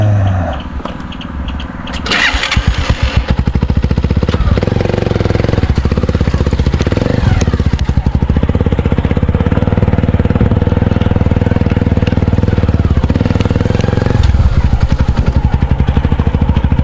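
A new grass cutter's small engine catches after about two seconds and then runs loud and close with a rough, rapid rattling chatter, holding steady to the end.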